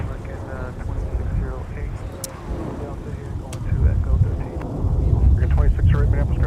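A passenger airplane takes off from a runway at Minneapolis–St. Paul airport: a broad, steady jet roar that rises in loudness toward the end, with radio chatter from air traffic control mixed over it.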